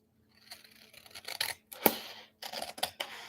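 Scissors snipping the ends off paper envelopes for journal pockets, a few close, quiet crisp cuts and paper rustles with short pauses between them.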